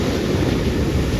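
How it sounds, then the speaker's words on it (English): Big ocean waves breaking at Aliso beach, a dense continuous roar of surf mixed with wind rush, loud and close. "Okay, more big waves."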